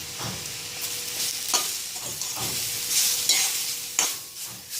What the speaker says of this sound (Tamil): எண்ணெய் ஊற்றிட்டு இதை சிம்லேயே தான் வச்சு வதக்கணும்.